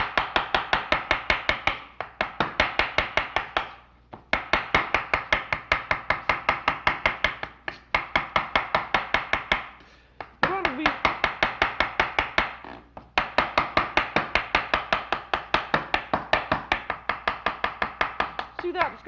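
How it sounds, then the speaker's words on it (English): A great big knife chops bacon and bird hearts down into a puree on a board, a fast steady tattoo of blade strikes in bursts of several seconds with brief pauses between, close and clear with no talking. "Then this just gets chopped into a puree, and I think using a great big knife is the easiest way to do it"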